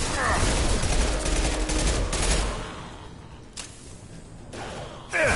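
Gunfire in the video game Mass Effect 2, a dense burst of rapid shots at the start that gives way to quieter, scattered impacts and effects.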